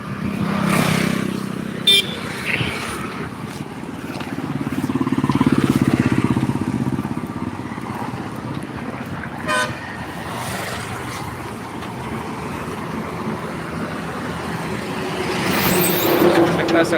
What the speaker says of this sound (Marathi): सकाळी गाड्या भरपूर आहेत दादा हो